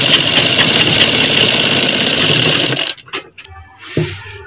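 An electric sewing machine runs steadily, stitching lace onto fabric, with a continuous loud whirring hum; it then stops, leaving a few brief clicks and soft handling noises.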